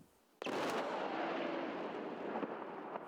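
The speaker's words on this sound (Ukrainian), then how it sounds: "З укриття за знищенням бомби спостерігаємо і ми." A sudden heavy blast from sappers' controlled detonation of a KAB-250 aerial bomb in Zaporizhzhia, followed by a long roaring rumble that slowly fades, heard from a distance in shelter.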